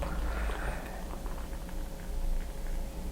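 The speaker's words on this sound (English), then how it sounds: "just pour this into my chalice" Brewdog DIPA beer poured into a chalice glass, a close fizzing, gurgling pour with bubbly crackle that swells and continues steadily throughout.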